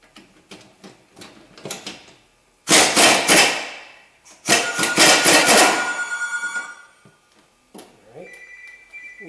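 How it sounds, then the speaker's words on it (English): Two loud, rattling bursts from a power tool loosening the 14mm stabilizer link nut on a 2000-2004 Nissan Maxima while a wrench holds the stud, with lighter clicks and taps of handling before, between and after. "You put the wrench on it and just hold it, and you shoot the nut off on the other side."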